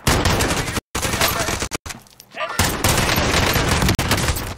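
Rapid bursts of automatic gunfire in the video game Call of Duty: Warzone, loud and close, with dense volleys broken by brief pauses and a short lull midway, while a voice speaks over it.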